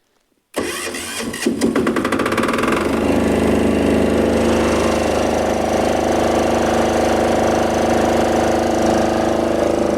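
A Matari MDA7500SE diesel generator cranks over and catches after a short silence, then runs loud and steady with a throbbing, rattling drone close by.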